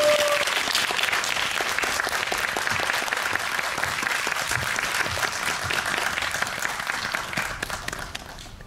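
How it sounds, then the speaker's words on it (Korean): A film-festival audience at a Korean screening talk welcomes the arriving guests with warm, sustained applause, a thick, steady crackle of many hands that stays strong the whole time and eases slightly toward the end. "뜨거운 박수로"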